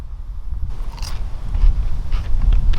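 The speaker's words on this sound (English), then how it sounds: "The batter's crunchy and it tastes really good" Someone bites into crunchy battered fish from a fish and chips shop, with close crackling crunches and chewing up near the microphone, no talking.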